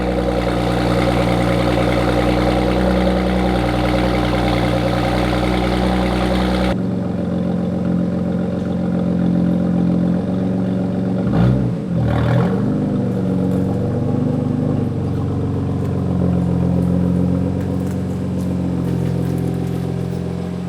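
Steady engine drone from a BMW F80 M3 running a BootMod3 Stage 1 tune on a test drive, loud and continuous throughout, with the tone shifting partway through and a brief swell near the middle as revs change.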